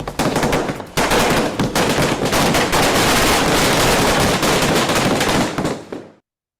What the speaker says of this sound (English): there are smaller, more intimate fireworks displays